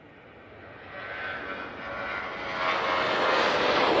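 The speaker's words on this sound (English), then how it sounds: "It's the 737-800 after Bologna" A Ryanair Boeing 737-800 at Manchester Airport produces a distant jet roar that grows steadily louder and brighter over a few seconds as it approaches, heard alone.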